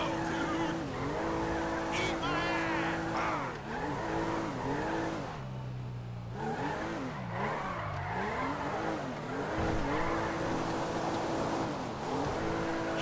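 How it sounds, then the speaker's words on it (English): A lowered car in GTA 5 running a drift handling mod, its engine revving up and down in repeated sweeps while the tires squeal through continuous slides, loud and close throughout. "It's pretty hard because it just wants to drift the whole time."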